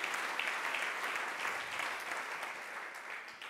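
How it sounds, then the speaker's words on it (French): Sustained applause from an audience at a French circular-economy innovation challenge event, honoring the jury, a continuous even roar of clapping hands, moderately loud and unbroken throughout. "Et on va applaudir le jury qui s'affiche à l'écran derrière vous"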